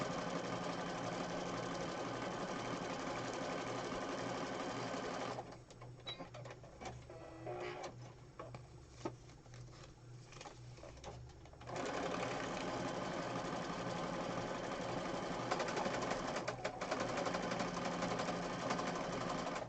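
A sewing machine runs in fast, steady stitching bursts, pausing briefly in the middle before resuming at full speed.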